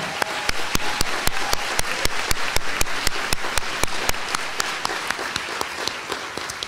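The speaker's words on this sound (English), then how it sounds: "I know he would be grateful for your applause." Steady, dense applause from an audience at a school board meeting honouring a head custodian, with crisp individual claps standing out over a continuous roar of hands, holding at a constant level throughout.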